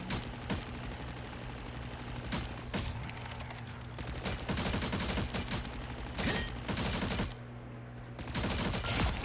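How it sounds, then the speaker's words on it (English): Rapid bursts of gunfire from Rocket's gun in the video game Marvel Rivals, repeated volleys crackling across the whole stretch with brief pauses, loud and upfront over a steady hum of game ambience. "Yeah, you could hit some shots with that gun."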